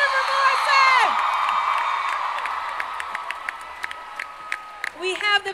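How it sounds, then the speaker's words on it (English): A Comic Con panel audience applauds and cheers, with whoops rising over steady clapping that gradually fades, then briefly swells again near the end. "Please keep your applause going"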